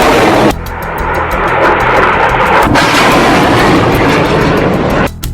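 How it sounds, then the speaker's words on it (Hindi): Hamas rockets launch one after another in a loud, continuous roaring rush, with a rapid series of sharp bursts layered over the sustained blast. "हमास एक के बाद एक 10 रॉकेट फायर करता है"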